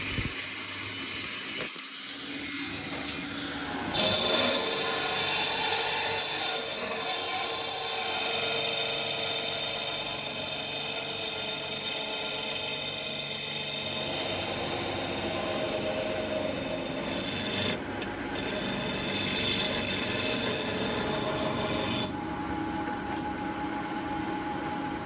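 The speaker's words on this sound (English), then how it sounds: "Grinding the tsuba to shape. I'm rounding over the edges on the belt sander" A belt sander grinds and rounds over the edges of a steel tsuba for a katana made from an old saw blade, producing a steady loud whirring drone with scraping texture that runs continuously throughout.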